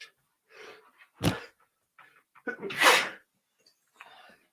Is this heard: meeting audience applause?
no